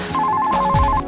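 A telephone rings as a visual novel sound effect, a loud, steady electronic trill of rapid repeated pulses lasting about a second.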